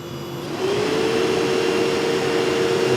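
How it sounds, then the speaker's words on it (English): The fan of a Cooltronic 24V DC parking cooler air conditioner spins up after a quiet start, then settles into a loud, steady whir with a constant tonal hum, close by and alone. "Okay, the fan started."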